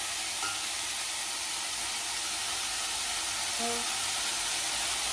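Onions and green chillies sauté in a pan for paneer curry, a steady close hiss and sizzle that holds evenly throughout with no pause.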